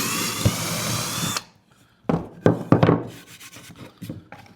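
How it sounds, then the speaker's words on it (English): A power drill bores a small pilot hole through scrap lumber, starting with a steady high whine, then a pause, then several short close bursts of grinding and rubbing as the bit cuts through the wood. "use a small drill bit to drill you a pilot hole so you can put a screw in the top"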